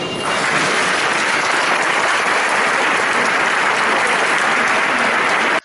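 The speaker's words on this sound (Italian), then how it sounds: "l'annuncio della nomina e l'applauso festante della folla assiepata in ogni angolo" A large crowd packed into a cathedral bursts into sustained, dense applause, loud and steady throughout with no voices over it, then cuts off abruptly at the end.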